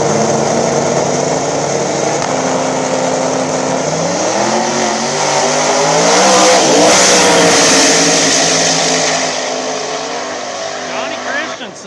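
A turbocharged Chevrolet Nova small-tire drag car launches and pulls hard down the strip at an outdoor drag racing event, its loud engine note climbing through rising revs before fading toward the end.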